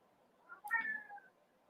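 A cat gives a single drawn-out meow, loud and clear, rising then trailing off, over a quiet background with no talk.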